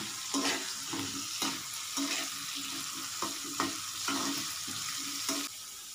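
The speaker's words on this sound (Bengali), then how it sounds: "আমার আলুটা আস্তে আস্তে ব্রাউনিশ চলে আসছে, লালচে লালচে ভাজা হয়ে আসছে" Potatoes frying and browning in a pan for ghugni chaat, a continuous close sizzle broken by regular scraping stirs of a spatula against the pan.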